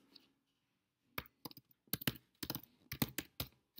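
Bursts of keystrokes on a computer keyboard as a website URL is typed into a browser, quick irregular clicks in short clusters after a brief quiet pause, close and clear with no voice.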